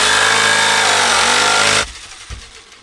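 Power drill boring a pilot hole for a jigsaw cut in a bucket, running loud and steady for under two seconds before stopping abruptly, followed by a faint knock.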